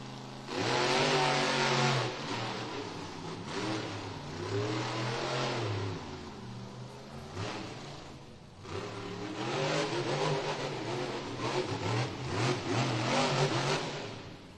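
The Velociraptor monster truck's engine revs loud and near in an arena, surging and falling in repeated throttle bursts with crowd noise beneath, at a Monster Jam event in Evansville, Indiana.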